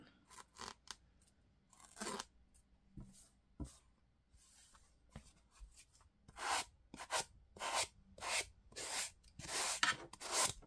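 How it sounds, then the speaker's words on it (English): Sanding a fabric-covered book spine by hand, with quick scratchy strokes in irregular bursts, sparse and light at first, then longer and louder, close up and without talk. "is just sand this a little bit and pull off any threads that are stuck on it"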